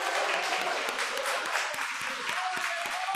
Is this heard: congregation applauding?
yes